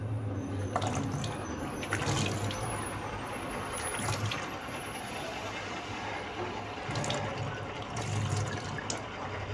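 Running tap water pours steadily while mangoes are washed, a continuous splashing flow with brief louder bursts and a low hum underneath.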